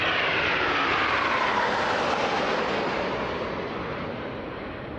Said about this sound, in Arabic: تتقدمها طائرة الأيواكس، على يمينها ويسارها طائرتين F-15 وطائرتين تايفون